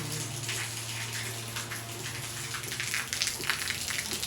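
Water pours from a hose into a tank, a steady broadband gush with splashing that stays constant and close, swelling slightly louder toward the end, with no talking.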